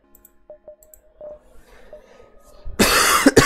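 A person still recovering from sickness gives a short, loud cough close to the microphone after a few seconds of near-quiet with faint clicks.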